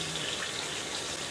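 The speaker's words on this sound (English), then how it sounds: "I'm gonna wash my hands." Tap water runs steadily into a sink as hands are washed in a home kitchen while making pork sausages, a continuous close hiss without pauses.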